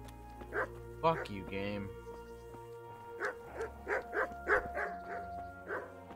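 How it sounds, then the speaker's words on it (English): Dogs bark in Kingdom Come: Deliverance, a string of about a dozen sharp, repeated woofs in an uneven rhythm, with someone talking over the first barks. "Quit barking, dogs."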